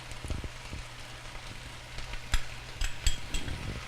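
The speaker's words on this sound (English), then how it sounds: "so in goes our vegetarian stir fry sauce" Vegetarian stir fry sauce goes into a hot pan with tofu and vegetables, giving a soft steady sizzle broken by a few sharp clicks and scrapes of a utensil.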